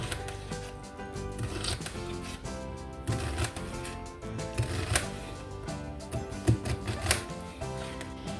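A knife chops half a medium onion on a cutting board in a rapid, uneven run of close, crisp taps and crunches, with brief pauses between bursts.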